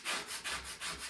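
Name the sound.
scraping chalk paste off a stencil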